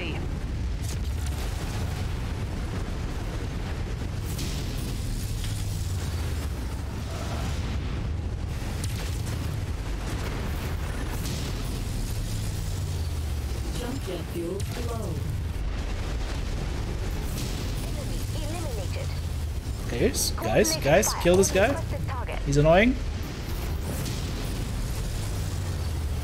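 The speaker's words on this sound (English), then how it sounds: "The PPC sound is fantastic" PPC weapon fire and explosions in the mech combat game MechWarrior 5: Mercenaries, a steady rumbling barrage of low booms with a cluster of sharp bursts near the end, while a player speaks briefly over it.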